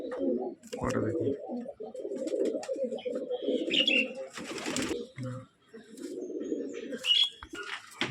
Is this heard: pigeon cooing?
yes